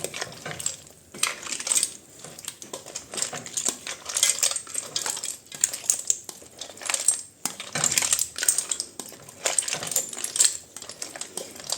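A utensil stirs fried potatoes into Portuguese pork Alentejana in a pan, producing repeated close metallic scrapes and clinks with a light sizzle beneath, irregular and alone.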